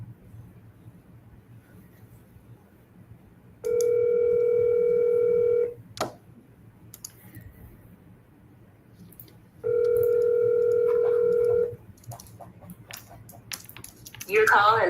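A telephone call forwarded to voicemail carries two long, steady electronic tone bursts on a quiet line, separated by a few clicks, with a brief burst of sound at the end.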